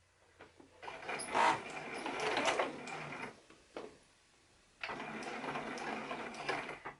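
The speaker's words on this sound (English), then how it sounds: "we're going to start sewing about a 1/2 inch or so away from where the hole begins" Sewing machine stitching through a blanket to mend a hole, running in two bursts of rapid mechanical whirring with a short pause between them, close and fairly quiet.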